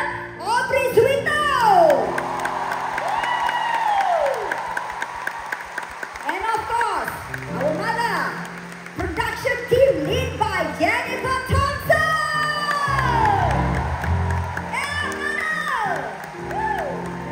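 Sustained applause and cheering from a large concert crowd in Singapore with whoops, continuing for many seconds with music and voices mixed in.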